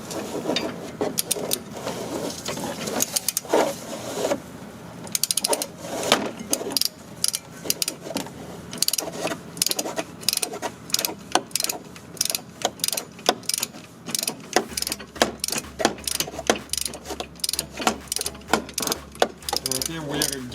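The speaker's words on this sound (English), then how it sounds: "This is a click type wrench, so what will happen when we reach that torque, you hear a click." A click-type torque wrench ratchets while tightening brake bolts on a Dodge, rapid close clicks coming in irregular bursts, with faint talk in places.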